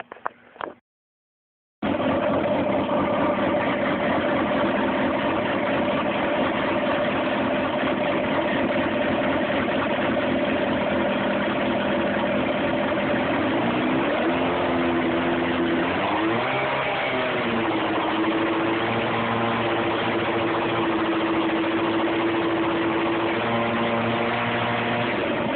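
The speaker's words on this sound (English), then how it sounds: "let me turn the bike on now" A Suzuki GSX-R600 fuel-injected sport motorcycle, which has a C28 fault code, starts after a brief clatter and then idles steadily up close. Its engine note rises and falls slightly as it settles, and no one speaks.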